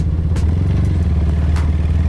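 A motorcycle hauling a cart speeds past on a village road, its loud mid-pitched engine note roaring close by with a clattering rattle throughout the short pass.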